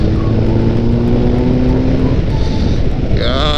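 Steady engine roar from a ZRX1200S motorcycle at speed on a highway with heavy wind rush, a low drone holding constant throughout, then rising in pitch near the end.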